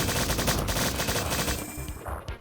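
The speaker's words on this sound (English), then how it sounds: "you'll fight another turret." Turret gunfire in the factory level of the video game Strife: Quest for the Sigil: loud, dense, rapid bursts of shots filling the whole stretch, easing slightly toward the end.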